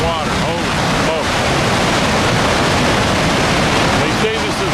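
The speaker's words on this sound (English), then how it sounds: "That's a lot of crashing water." A huge Icelandic waterfall pours with a dense, unbroken roar of crashing water, loud and close, while a voice briefly surfaces over the noise at the start and again near the end.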